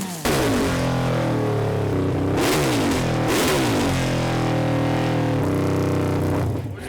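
A Harley-Davidson motorcycle engine revving loud and close, with several sharp throttle blips climbing and falling over a heavy, pulsing idle that carries on between them.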